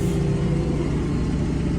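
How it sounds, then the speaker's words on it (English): A tractor engine revs with the mower engaged, giving a loud, steady, close rumble that holds level throughout with no voices. "So the revs are up, and then you can let go of the clutch, and then we're mowing."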